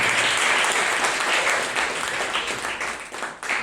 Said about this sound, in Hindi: जोरदार ताली हो जाए परमेश्वर